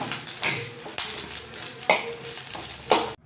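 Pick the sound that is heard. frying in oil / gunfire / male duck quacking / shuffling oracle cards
frying in oil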